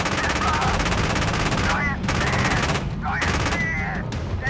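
Rapid automatic gunfire from armored personnel carriers in the tank game Gunner HEAT PC, loud sustained bursts of machine-gun fire with brief gaps between volleys.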